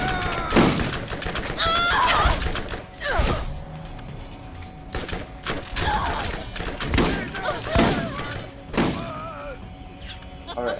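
Enemy shotgun fire in Borderlands: a handful of separate loud blasts spaced a second or two apart, mixed with game thuds and clatter.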